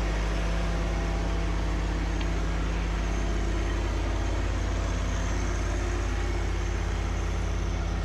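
A John Deere 1 Series compact tractor fitted with a HydrosPlus performance kit runs at a steady high RPM, giving a constant, loud engine drone with a strong low hum that stays unchanged throughout.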